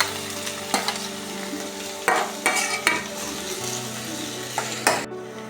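Chopped tomato frying with garlic and ginger in a pan, with repeated spatula scrapes and stirs over a continuous crackling sizzle, close and clear, ending abruptly.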